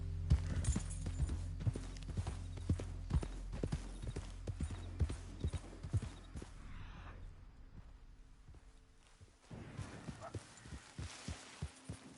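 Horse hooves in Red Dead Redemption 2 clop in a steady galloping rhythm, close and loud, with a brief quieter stretch before the beat picks up again.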